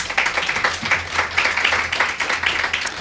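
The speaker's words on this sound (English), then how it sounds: "Round of applause for Omar and Diana." An audience at a legislative summit program claps steadily in moderate, continuous applause for Omar and Diana, the patter holding evenly for a few seconds without voices over it.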